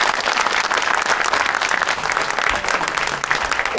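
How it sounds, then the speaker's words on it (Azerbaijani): A studio audience at a comedy sketch show applauding, dense and loud clapping from a crowd, sustained and unbroken throughout. "Sizin gürültülü alqışlarınızla anlar."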